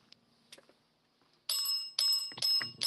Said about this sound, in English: the dead bell is just going nuts right now